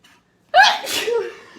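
A single sharp sneeze from a person, loud and close, bursting out after a moment of near silence and trailing off with a breathy tail.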